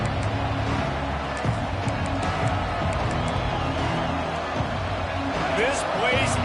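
A packed college football stadium crowd at an Ohio State versus Indiana game roars loudly and steadily, a dense wall of noise with scattered whoops rising above it.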